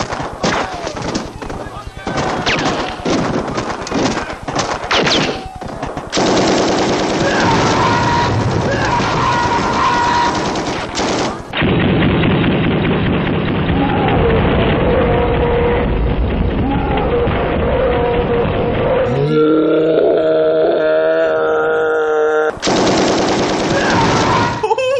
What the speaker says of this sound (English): Reb didn't hit a single goddamn thing one-arming this 50 cal machine gun.